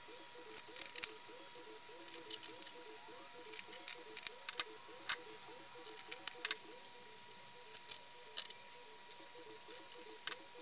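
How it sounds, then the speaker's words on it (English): Tin snips trim a printed circuit board close to its perimeter, giving faint, irregular sharp clicks and snaps over a steady low hum. "I'm going to take my tin snips and trim the board reasonably close to the perimeter"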